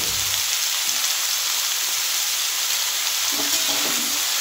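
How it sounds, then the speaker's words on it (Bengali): Bottle gourd stems with salt being stirred in a hot frying pan for a fish head chorchori with sesame and mustard, a steady close sizzle with soft scraping and shuffling, no voices. "একটু নেড়ে নেব এটা ভালো করে।"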